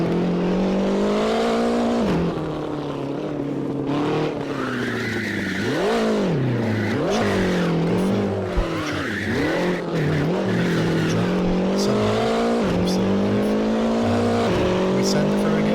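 Race car engine in Assetto Corsa on a hot lap, rising and falling through gear changes with tire squeal through corners, loud and continuous throughout.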